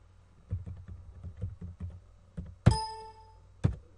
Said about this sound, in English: So now I'll type in a right username.